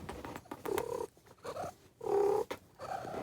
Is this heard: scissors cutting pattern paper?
no